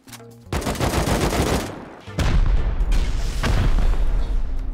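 Sustained automatic gunfire in a video game, a loud dense burst that cuts off briefly and then resumes as a continuous heavy barrage with booming low impacts, close and overwhelming.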